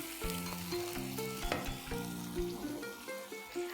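Tomato and masala paste frying in a pan for bhindi masala, with a soft sizzle under repeated tonal clinks and scraping of a spoon against the vessel, close and busy throughout.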